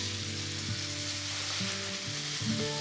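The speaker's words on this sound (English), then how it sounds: "So I fry the flour together with the onion" Flour and onion frying together in a pan while making a sauce for chicken schnitzel: a steady, close sizzle with soft stirring scrapes, continuous and fairly quiet, with no voices.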